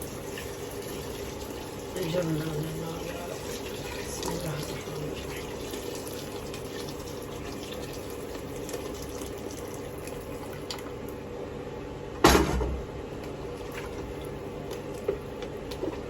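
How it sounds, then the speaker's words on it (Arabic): Hot water pours into a pot of Iraqi sour turnip soup, a soft, continuous stream of liquid filling the pot with a louder splash near the end, while a person speaks quietly at times. "هسه اضيف المي، مي حار"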